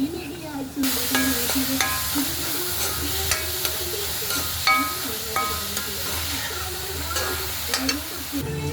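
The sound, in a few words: chicken thoran with coconut frying in a pan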